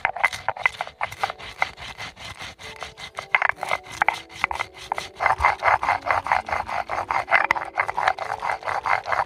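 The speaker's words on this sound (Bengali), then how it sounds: "জিরে মরিচ আমি একসাথে বেটে নেব এবার।" Cumin and chili being ground together on a stone: rhythmic, scraping rubs of stone on stone repeat in a steady back-and-forth pattern, close and alone.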